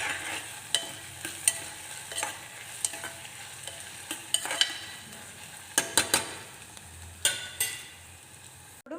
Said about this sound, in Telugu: 4 పచ్చిమిరపకాయలు చీల్చుకొని వేసుకొని ఒకసారి కలుపుకోవాలి.